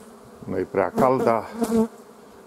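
Honeybees stir inside a hive in early spring, giving off a buzzing hum. A person speaks over it, and the talk largely covers the insect sound in this short moment.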